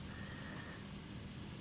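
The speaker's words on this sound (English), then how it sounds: "It's raining, it's drizzling, it's humid, it's buggy" Light drizzling rain falls steadily outdoors among garden plants on a humid day, a soft continuous hiss close by with no talking.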